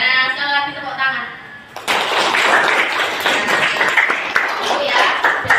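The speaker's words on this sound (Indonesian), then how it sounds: "Nah, sekali lagi tepuk tangan." Classroom applause bursts out after a brief stretch of speech, many hands clapping together in a dense, steady roll that carries through to the end.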